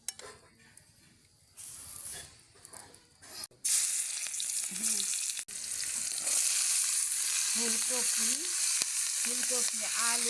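Cauliflower, potato and cabbage fry together in a pan, starting quiet and then becoming a loud, steady sizzle after the food goes in, with a brief clink and a few voiced sounds near the end.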